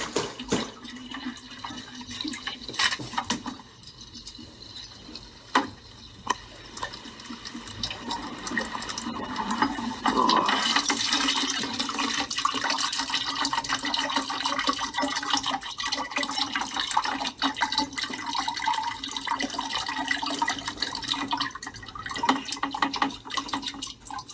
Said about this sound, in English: That pump is still running.